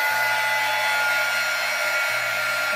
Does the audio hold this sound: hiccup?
no